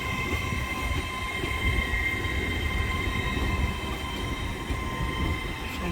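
A Class 800 train at Doncaster station braking to a halt just before a signal: a steady rumbling hum with high electrical whine, moderately loud and close, no talk.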